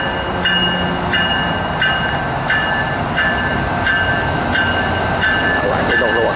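A Norfolk Southern freight train of empty rock cars, led by ET44AC locomotives, rumbles past at close range with a steady mechanical roar and regularly repeating clicks from wheels crossing rail joints.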